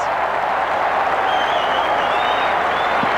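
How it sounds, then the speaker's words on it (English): A rugby stadium crowd at an Australia v New Zealand Bledisloe Cup test roars in a continuous, dense wall of cheering from across the field, with a few whistles rising above the din. "You can hear the crowd on the other side of the field"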